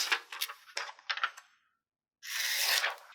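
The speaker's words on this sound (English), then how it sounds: "you'll want to peel away the liner from this card mat" The liner is peeled off a Cricut Joy card mat up close, giving soft crackling tears in a few quick pulls, a short pause, then one longer steady peel.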